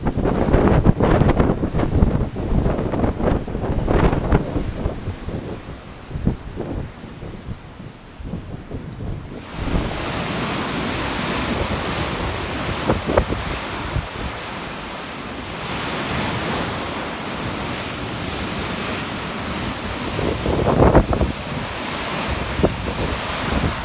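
Heavy wind and rough sea waves surround the P&O cruise ship Aurora at sea, a loud, continuous roar of gusting wind and crashing surf with strong buffeting against the microphone.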